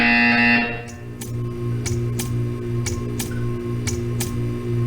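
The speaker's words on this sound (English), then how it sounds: "You will hear a buzzer. When you hear the buzzer, stare at the art" In the Portal 2 test chamber, a steady electronic hum runs under a series of short, sharp ticking buzzer pulses repeating roughly every half second after a loud opening tone, close and mechanical.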